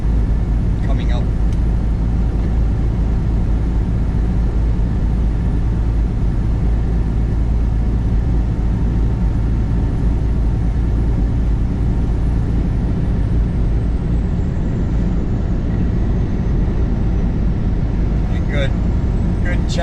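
A car cruises along Interstate 64 in Kentucky into fog, its steady, loud road and engine rumble filling the cabin continuously with little change throughout.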